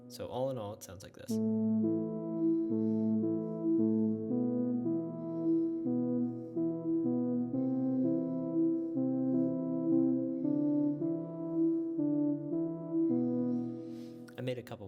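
Roland S-1 synthesizer playing a theme pattern, a steady sustained tone with stepping notes in a slow repeating sequence, clear and alone for most of the clip, with brief talk at the start and end.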